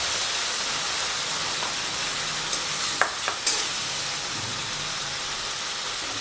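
Spice paste mixed with yogurt fries in a pan for jackfruit curry, a steady broadband sizzle that holds throughout, broken near the middle by a few sharp scraping clicks of stirring.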